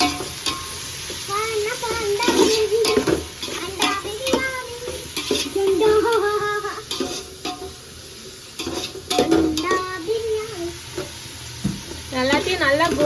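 Mutton biryani ingredients are sautéed until golden brown, a continuous sizzle with stirring scrapes of a spoon in the pot, while people talk over it on and off.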